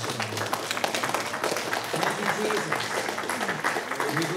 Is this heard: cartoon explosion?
no